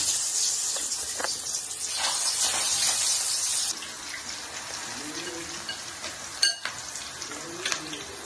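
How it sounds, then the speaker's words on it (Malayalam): Chicken pieces fry in hot oil for a Kerala-style chicken fry, a steady loud sizzle with bright crackle that eases after a few seconds, broken by a couple of sharp clinks and scrapes near the end. "എണ്ണ നല്ലവണ്ണം ചൂടായി വന്നിട്ടുണ്ട് ഇനി നമുക്ക് അതിൽ ഈ കഷ്ണങ്ങൾ പിറക്കിയിടാം"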